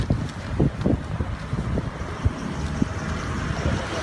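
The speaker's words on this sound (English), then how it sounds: "A little bit windy." Wind blowing outdoors during a speech, a steady low rumble of gusts buffeting the microphone with a few louder thumps, continuous throughout.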